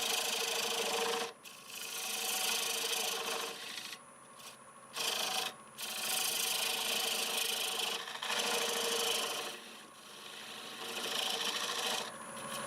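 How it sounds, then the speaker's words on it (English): Cutting a square tenon on black walnut spinning on a wood lathe: loud, close, continuous rough scraping and shearing, interrupted by a few short gaps as the tool lifts. "I'll square the tenon up, which is very important to have a nice square tenon, nice and flat where the jaws fit against it."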